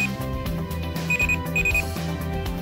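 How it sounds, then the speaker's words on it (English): A pill box reminder alarm sounding, a soft alarm meant to grow louder over minutes; a close, steady run of repeating electronic beeps in a quick rhythmic pattern, with no voices. "An alarm will sound as well. The alarm starts soft and grows louder for 5 minutes and then shuts off."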